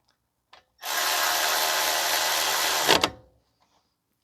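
A power tool spins brake caliper bolts into a 2020 Honda CR-V 1.5 during a front brake service, one loud continuous whirring burst of about two seconds, close up, ending in a short clunk after faint clicks.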